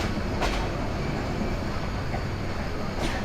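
A passenger train pulling out of Dhaka Airport railway station, a continuous dense rumble and rush of wheels and air heard from aboard, with a couple of faint clicks and no talking.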